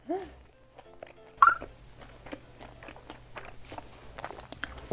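A crispy butter croissant bitten with a sharp crunch, followed by repeated close, crackly chewing noises, with brief voice sounds at the start.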